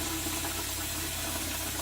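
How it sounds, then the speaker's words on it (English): Cold tap water running steadily into a shaving bowl at a bathroom sink in winter, a continuous close-up rushing and filling sound with no talking. "I'll go ahead and let that bowl fill up."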